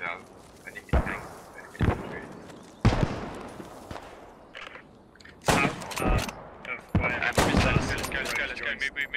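Gunfire in the video game Post Scriptum: repeated sharp shots and short bursts, some close and loud, others further off, spread irregularly, with quiet stretches between them.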